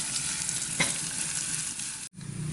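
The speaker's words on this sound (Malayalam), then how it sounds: "അതും അതിലേക്ക് കുറച്ച് കറിവേപ്പില ഇട്ടിട്ട് നമ്മൾ വെറുതെ ഉള്ളി കാച്ചിയെടുക്കാമെന്ന് പറയണ മാതിരിയുള്ളത് താളിച്ചെടുക്കണം" Shallots and curry leaves crackle and sizzle in hot oil for a tempering, a steady close frying hiss with a brief stir, then a sudden short cut before the sizzle resumes.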